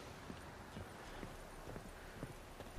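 Horse hooves clip-clop steadily at a gallop in The Witcher 3, an even rhythmic beat over a soft, continuous background wash, with no talking.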